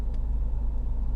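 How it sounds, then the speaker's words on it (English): A car air conditioner runs inside a parked car, giving a steady low rumbling hum with a faint airy blowing on top, continuous and close, with no talking. "if you hear some humming or blowing sounds, whatever in the background, it's because I'm in the car, the air conditioner's running"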